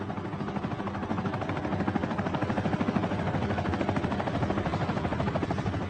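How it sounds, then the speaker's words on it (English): A small helicopter straining to lift off from the ground on an African wildlife operation, a steady throbbing rotor chop and engine whine held at a constant close, loud level. "The small helicopter can barely lift her"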